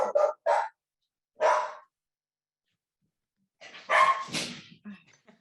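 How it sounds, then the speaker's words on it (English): Dog barking over a video call, a few loud close barks in quick bursts, a pause, then a longer cluster of barks and yelps. "my dog's barking because she heard yours"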